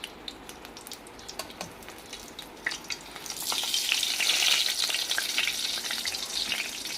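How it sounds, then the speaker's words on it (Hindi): Brinjal pieces frying in hot oil in a kadai for sour brinjal curry. A busy, close crackle with scattered pops swells noticeably louder midway and stays strong. "और जब ये बिल्कुल यानी कि फ्राई हो जाए इस तरह आपने सारे बैंगन फ्राई कर लेने हैं।"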